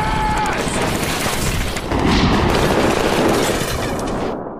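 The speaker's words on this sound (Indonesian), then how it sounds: "Aksi baku tembak yang edun terjadi hingga menimbulkan kekacauan yang besar." Gunfire from a film shootout with SWAT officers: a dense, continuous barrage of shots and booms, loud and sustained throughout before cutting off sharply at the end.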